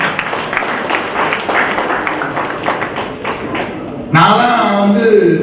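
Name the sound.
audience applause for the Lions club members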